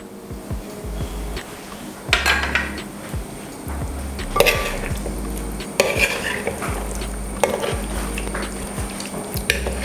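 A spoon stirs fresh cream into chicken angara in a metal pot, making repeated scraping strokes and dull knocks against the pot in a steady, close rhythm with a faint sizzle underneath.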